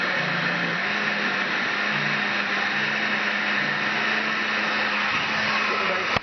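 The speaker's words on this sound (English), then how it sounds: "Top off that blender." An electric blender purees garlic cloves and sauce into a paste, a loud, steady motor whir running without a break, close up and alone, until it cuts off abruptly at the end.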